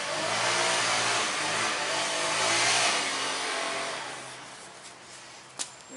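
A small two-stroke string trimmer engine, just repaired, runs with a buzzing whine that swells and fades, fairly faint and noisy, ending with a brief sharp knock.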